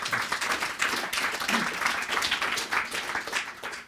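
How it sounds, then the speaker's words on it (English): Round of applause from an audience for a panel at a talk on AI safety, risks and regulation, steady dense clapping throughout, moderately loud and close. "just a quick round of applause for the panel"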